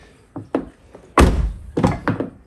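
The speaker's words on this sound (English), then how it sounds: "can bang on the lock here, or just open like that." Banging on the door lock of a Kia Venga car with a faulty central locking system, a few scattered light taps followed by several heavy, close thunks in quick succession.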